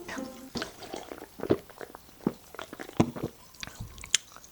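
Coca-Cola being drunk right up against an ASMR microphone: a run of close, irregular wet gulps, swallows and mouth clicks with a few sharper smacks, heard alone against a quiet background.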